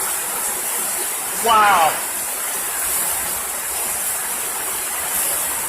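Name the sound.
water rushing past forcefully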